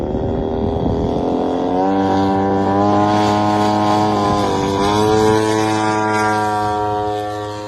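A KX-2 drone built under the Bangladesh Air Force, powered by a Chinese 80–150cc light gasoline engine, flies with a loud, steady buzzing drone whose pitch wavers slightly midway and holds on throughout without a break.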